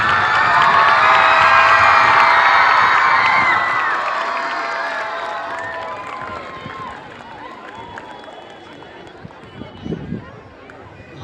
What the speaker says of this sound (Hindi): तालियों की गड़गड़ाहट के बीच स्वागत कीजिए हमारे डायरेक्टर सर का